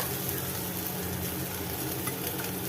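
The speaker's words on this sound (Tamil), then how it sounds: "இப்போ இது எல்லாத்தையும் நல்லா வதக்கிக்கலாம்" Ingredients for kovakkai thogayal, ivy gourd chutney, sautéed with rock salt in a pan, giving a steady close sizzle and frying hiss throughout, with faint stirring and no voices.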